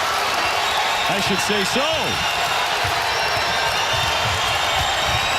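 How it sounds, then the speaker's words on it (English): Basketball crowd at a college game, Creighton at Providence, roaring after a dunk, a loud sustained arena din under a broadcaster's talk, with sneaker squeaks rising above it. "And that gets the crowd alive here at the dunk."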